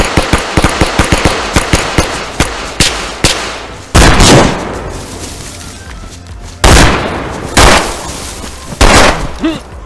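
Gunfire in the survival video game DayZ: a rapid volley of close, loud shots at the start, then several heavy, booming single blasts spaced seconds apart.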